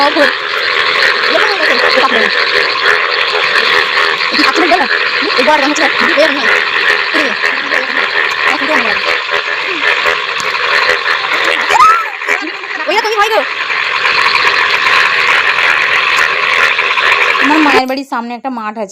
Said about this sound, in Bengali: সেই পানিতে এত ব্যাঙ ডাকছে যে কি বলবো তোমাদেরকে